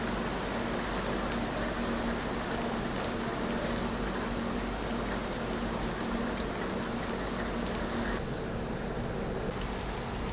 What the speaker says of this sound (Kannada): ನೋಡ್ರಿಲ್ಲೇ ಈ ಟೈಪ್ ಮಳೆ ದುರಂತೋ ಎಕ್ಸ್ಪ್ರೆಸ್ ಅಂತ ಟ್ರೈನ್ ಮಜಾ ರೀ